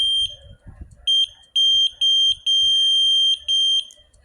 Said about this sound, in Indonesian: maka buzzer akan menyala